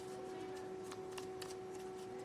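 Tarot cards shuffled by hand, a steady run of soft papery riffles and flicks, close and fairly quiet, with no talking.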